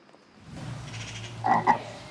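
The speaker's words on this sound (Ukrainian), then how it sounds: "Жаба, жабка, лягушка. It's a frog." A frog croaks in a Odesa green theatre, two short loud croaks near the end after a low rumbling ambient background, no speech.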